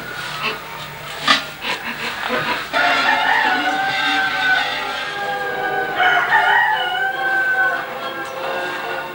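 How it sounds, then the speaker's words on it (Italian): A farmyard rooster crows loudly and repeatedly in an old rural stable setting, long drawn-out calls ringing close, with lighter clucking and background noise before the crows begin. "Scandiva l'orario di lavoro il canto del gallo."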